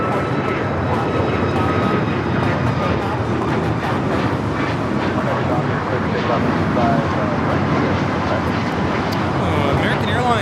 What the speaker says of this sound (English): a second takeoff here on the south side